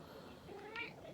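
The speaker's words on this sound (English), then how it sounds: "Ah, this cat." A cat gives a single short meow, faint and brief, over a low background hiss in a room during bicycle repair work.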